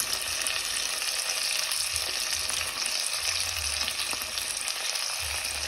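Tomato puree fries in a pan for biryani-style tomato rice, making a constant close sizzle with soft stirring and bubbling underneath.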